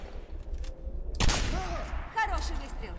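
Gunfire from the video game Singularity: one sharp, loud shot, with game sound effects and ringing tones after it.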